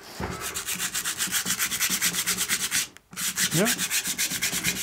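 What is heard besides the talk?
sanding paint with sandpaper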